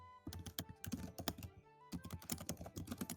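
Quiet, close computer keyboard typing, with rapid clusters of key clicks and thunks, a brief pause partway through, then a second burst of keystrokes.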